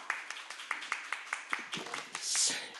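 Scattered clapping from a seated audience at a Korean economic forum as a lawmaker is introduced, a dozen or so separate hand claps in an uneven rhythm, moderately close and fairly faint, with a brief murmur near the end.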